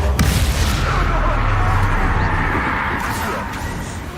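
Fire and blast spells in the Hogwarts Legacy video game go off in a loud, continuous, rumbling barrage of explosions that fills the whole moment and eases slightly toward the end.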